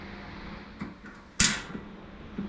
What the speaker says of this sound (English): And then what I'll do is I'll close the door.